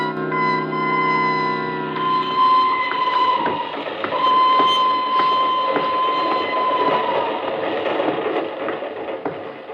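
Steam-era passenger train rolling along as a radio drama sound effect, steady rumble and clatter of wheels with sustained whistle-like tones early on, loud and continuous throughout with no talk over it.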